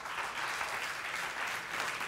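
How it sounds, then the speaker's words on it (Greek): A studio audience on the Greek game show Wheel of Fortune applauds in a steady, even wash of clapping, moderately faint and with no voices over it. "Ένα χειροκρότημα για την Αθηνά μας."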